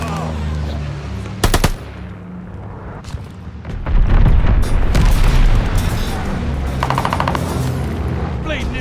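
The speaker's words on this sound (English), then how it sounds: "Allies called a bombing run. Incoming." Bombing run and heavy gunfire in a combat video game: a sharp burst of rapid shots early on, then loud, dense booming explosions and continuous firing that fill the rest of the stretch, close and overwhelming.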